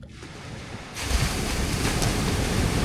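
Ocean waves building at Dipaculao Beach in Aurora: a surging wash of surf swells up after the first second into a loud, continuous roar, with wind buffeting the microphone and no voices.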